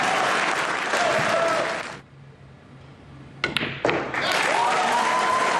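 Spectators at a U.S. Open pool match between Shane Van Boening and Joshua Filler break into loud applause and cheering, fading to near silence midway, then a couple of sharp knocks before the crowd noise surges back, with commentary voices over it.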